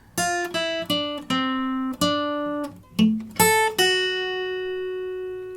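Clean guitar plucking a short melodic phrase from a song, single notes ringing out one after another and the last note sustaining as it fades.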